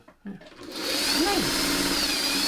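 A sewing machine stitching quilt pieces starts after a brief soft sound, then runs as a steady, close mechanical whir that fills the rest of the moment.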